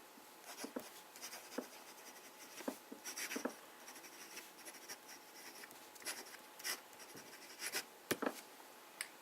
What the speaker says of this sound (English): I'll just start out with the fine/flex pen. Start to do some fine writing.